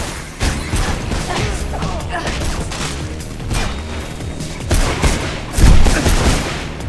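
Machine gun fire and gunfire bursts in the video game Mirror's Edge, loud, dense, and continuous, with heavier booming hits near the end.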